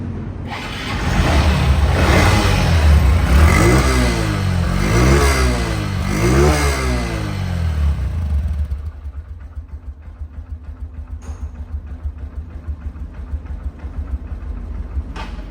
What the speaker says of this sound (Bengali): কি মিষ্টি সাউন্ড না একদম মিষ্টি সাউন্ড এই বাইকটিতে